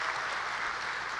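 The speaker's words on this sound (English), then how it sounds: "Give yourself another round of applause for all that hard work." Applause from a graduating class at a Lakeland Community College commencement ceremony, a steady dense wash of many hands clapping together, loud and sustained without breaks.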